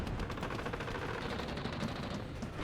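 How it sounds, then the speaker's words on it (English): Rapid, dense gunfire and artillery fire roll on without a break in a Warno real-time battle, a steady stream of rattling reports across the whole stretch, fairly faint and with no voices over it. "Artillery coming in here."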